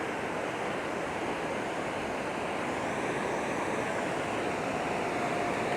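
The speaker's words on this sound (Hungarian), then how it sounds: "Nagyon kellemes, laza hullámok vannak" Gentle surf rolls onto a Costa Rica beach in a steady, close wash of breaking waves, with light wind noise and no pauses.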